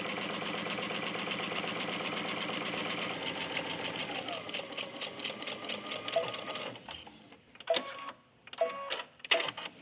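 A sewing machine stitches a seam on a garden knee pad cover, running in a fast steady mechanical rattle that slows, pauses and resumes in short bursts near the end.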